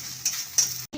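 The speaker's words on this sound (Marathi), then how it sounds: "आपण घेतलेले सर्वच्या सर्व मसाले या तेलात घालून घ्यायचे आहे" Spices hit hot oil for a dalcha rice dish with a brief close crackling sizzle and a couple of small pops, cut off abruptly after about a second.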